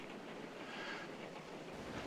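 A train rolls on through a night storm as a faint, steady rushing rumble, continuous and distant, with no voices.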